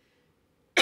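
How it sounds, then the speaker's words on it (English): A single sharp cough bursts out near the mic after a stretch of near silence, loud and brief. "For some reason, I am having a coughing attack."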